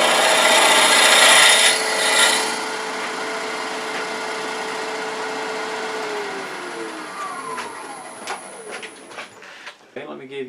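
A wood lathe gouge cuts into wet cherry end grain with a steady scraping hiss, then the tone shifts and fades as the cut slows and tapers into scattered scratchy contacts near the end.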